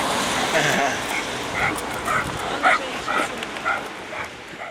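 A young, healthy dog rescued from the front line near Kharkiv gives short, faint yips and barks repeatedly, mostly under a person talking.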